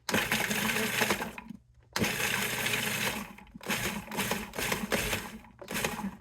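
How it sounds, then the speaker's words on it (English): A food processor with its bottom blade chops celery in several loud pulses, rough grinding bursts separated by brief silent gaps, heard close and alone. "couple quick pulses and we are good"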